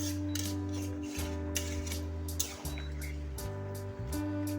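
Hot water is poured into a pan of potato and prawn curry, a soft splashing and gurgling over a steady low hum of the kitchen, close and fairly quiet.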